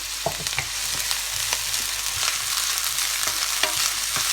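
Chopped onion fries steadily in a pan, a continuous bright sizzle with occasional crackles and pops, close and fairly loud, no voices.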